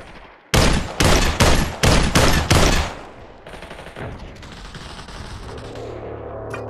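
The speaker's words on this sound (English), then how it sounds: "I think they were shooting at me." Rapid burst of about eight loud, close gunshots from a fight in the VR shooter game Population: One, followed by fainter distant shots and rumbling game ambience.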